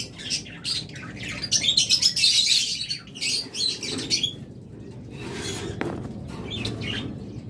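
In a bird shop, pet birds such as lovebirds, budgerigars and cockatiels chirp and squawk in bursts. A dense flurry of twittering early gives way to scattered calls over a low background murmur.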